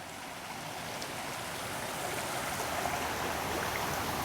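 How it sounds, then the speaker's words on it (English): Frog Creek runs strongly, swollen with meltwater after a snowstorm, giving a steady close rushing wash of flowing water that builds slightly, with no voices. "Now Frog Creek is flowing very strongly because we just had a snowstorm"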